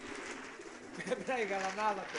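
Racing pigeons coo close by in soft throaty warbles, rising toward the end, with a low murmur underneath.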